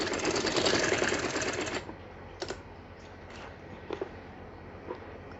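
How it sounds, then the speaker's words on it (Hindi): A sewing machine stitching small fabric pieces into a dress whirs loudly in a fast continuous burst, then stops, leaving a few sparse, faint mechanical clicks. "अब हमें फिटिंग की स्टिचिंग करनी है।"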